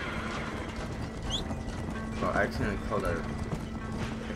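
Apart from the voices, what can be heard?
horse whinnying and hooves after being called, Red Dead Redemption video game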